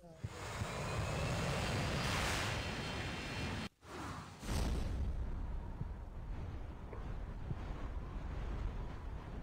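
A helicopter in the Call of Duty Mobile game roars with a steady, loud rotor and engine wash, briefly cut by a sharp drop, then returning as a continuous close drone with wind-like noise.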